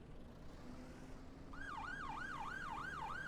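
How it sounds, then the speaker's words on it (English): An emergency vehicle siren in the OMSI 2 bus simulator game on a London route wails in a rising-and-falling pattern, starting partway in and cycling steadily over a low engine drone and road rumble. "the sirens are quite loud"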